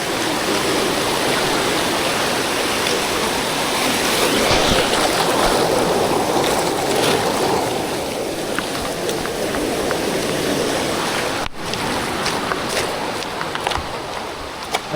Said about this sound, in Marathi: लाट पण येते.